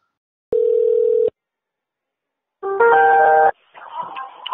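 A loud telephone tone sounds for under a second, then after a pause a rapid sequence of dialing tones plays, followed by a fainter ringback-like warble.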